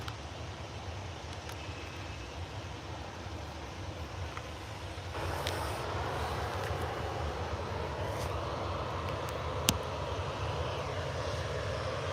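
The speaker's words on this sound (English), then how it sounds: "Just get this plane going out." An airliner departing Manchester Airport gives a continuous rumbling jet-engine roar that steps up in strength about halfway through, with a brief sharp click near the end and no voices.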